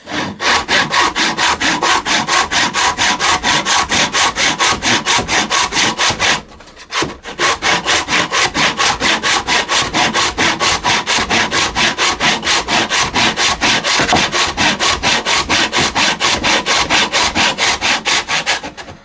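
A hand saw cuts wood for a mitred half-lap joint with fast, loud, rhythmic rasping strokes, close up. The strokes pause briefly partway through, then carry on at the same even pace to the end.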